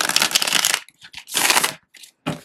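A tarot deck is shuffled by hand in three quick bursts of riffling card flutter separated by short pauses, close and crisp.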